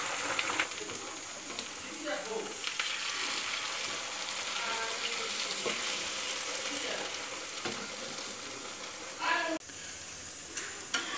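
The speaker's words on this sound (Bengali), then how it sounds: "ডিমের অমলেটটা এবার করে নেব, 2টো ডিমই একসাথে ভেজে নিচ্ছি।" A two-egg omelette with chopped onion and green chilli fries in a pan, a steady close sizzle broken by occasional spatula scrapes and clicks.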